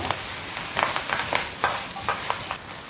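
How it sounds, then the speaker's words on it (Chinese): Rapeseed stems stir-fried in a hot wok with ginger, scallion, garlic and dried chilies give a continuous close sizzle, punctuated by repeated scraping strokes of the spatula in a quick, uneven rhythm. "翻炒匀净"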